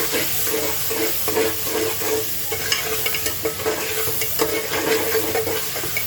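Ground mixed spices roast in a pan for masoor dal and rice khichdi, giving a steady, close sizzle with repeated scraping stir strokes throughout.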